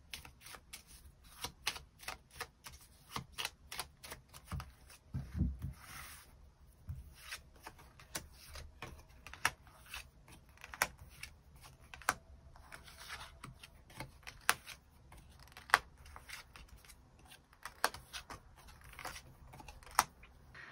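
Tarot cards are shuffled and drawn close up in a quiet room, a faint run of crisp flicks and taps coming in irregular bursts with no speech.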